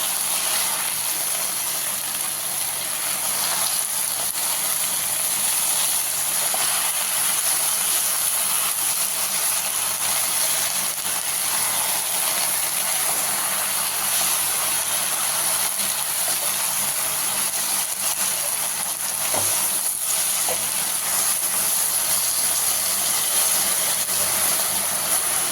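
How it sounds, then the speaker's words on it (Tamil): Sorrel (pulichakeerai) leaves sauté in hot oil with a steady, loud, unbroken hiss and sizzle that runs evenly throughout, with no voices over it. "புளிச்சக்கீரை பார்த்திங்கன்னா இந்த எண்ணெயில் போட்டு நல்லா வதக்கி எடுக்கணும்"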